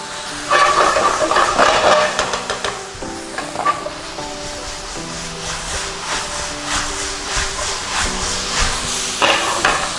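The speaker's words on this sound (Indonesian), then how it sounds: "Lalu masukkan tomat, ya, ini tomat." Tomatoes sizzle in a hot pan for an Argentinian beef empanada filling alongside beans and peas, with a steady frying hiss and repeated clattering scrapes of a utensil stirring throughout.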